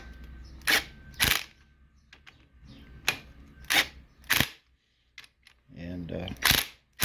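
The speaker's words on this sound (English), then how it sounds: "Now I'm going to just use my wrench here on the" A wrench on its low setting snugs the connecting rod onto freshly oiled bearings in a 1929 Chrysler 360 engine, giving sharp, irregularly spaced clicks and taps close by, with a brief voice near the end.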